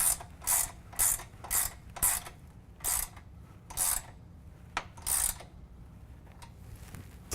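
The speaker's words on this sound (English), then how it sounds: "we go ahead and tighten down the bolt up at the rocker panel, also with a 13 millimeter" A hand ratchet tightens a 13 mm bolt at the rocker panel of a Ford F-250/F-350 Super Duty truck while fitting hoop steps: about eight bursts of rapid close clicking in an uneven rhythm, with short gaps and no talk.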